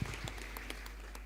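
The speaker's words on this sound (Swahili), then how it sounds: "Makofi kwake." A church congregation at a Kikuyu-language Sunday service breaks into a brief burst of applause, a short, fairly soft patter of many hands clapping together in the hall before it fades.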